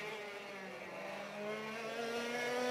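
An F100 race car on a flying qualifying lap at Nutts Corner circuit in Ireland gives a steady, fairly distant engine drone that swells slightly toward the end, heard alone without talk.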